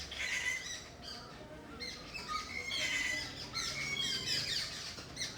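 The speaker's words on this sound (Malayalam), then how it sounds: "ആദ്യം കാക്കകൾ നമ്മളൊക്കെ ഒന്ന് ശ്രദ്ധിക്കാൻ വേണ്ടിയിട്ട് കുറേ ഒച്ചപ്പാടുണ്ടാക്കി" Crows caw and squawk repeatedly outdoors near a monkey, a restless overlapping chorus of harsh calls at moderate distance over a soft background hiss.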